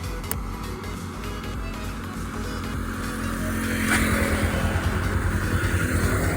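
A Bajaj Pulsar AS 200 motorcycle engine with a camshaft noise fault runs at a steady idle, close by, its low rhythmic putter growing slightly louder and rougher toward the end.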